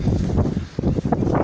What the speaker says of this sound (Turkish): Bayağı rüzgar var.